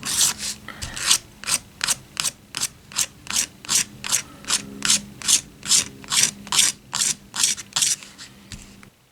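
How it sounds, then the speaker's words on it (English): A small hand scraper drawn along the edge of an acoustic guitar pickguard, about twenty evenly spaced rasping strokes in a steady rhythm, close and crisp, with no talking. "That's actually the best thing to do at the end is scrape it."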